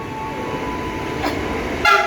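KRL commuter train entering BNI City station in Jakarta, a steady rolling rumble with a brief bright squeal near the middle and a louder burst at the end.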